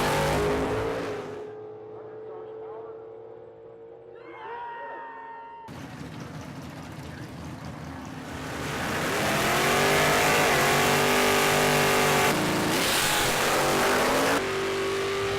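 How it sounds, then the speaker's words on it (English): Stock and super stock drag racing cars at a Canadian drag strip, with loud engines roaring and revving, rising in pitch as they launch and accelerate away, then a sustained full-throttle blare. "Alain Cochon going down, gets the win up against Chuck Nagy"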